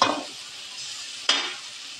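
Beans frying with homemade coriander powder in a pan, a steady close sizzle with two sharp stirring scrapes at the start and midway through.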